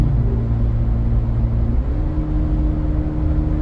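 A Braptor race truck's exhaust rumbles at a steady idle, a deep continuous throb with a faint shift in pitch partway through, heard close up with no speech.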